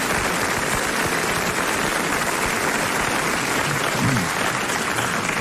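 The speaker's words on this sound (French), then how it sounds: "Je vais donc vous demander d'applaudir M." Studio audience applauding steadily on a French television talk show, a dense even clatter of clapping hands that fills the room throughout without a break.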